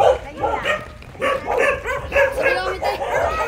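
A dog barks repeatedly in quick, uneven bursts, close by, with a few higher yips mixed in.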